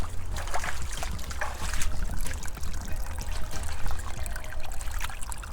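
Creek water trickles and gurgles over rocks at Quail Creek, a close, continuous babbling flow with a low rumble underneath and no talking.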